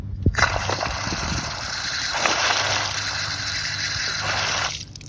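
Water gushes from an outdoor lawn faucet, a steady hissing rush that starts abruptly after a click, holds for about four seconds, then cuts off when the tap is shut.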